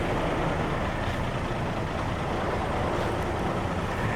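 A steady, broad engine rumble of a Sinar Jaya intercity bus pulling away from the departure point, constant and moderately loud throughout, with no clear rise as it moves off.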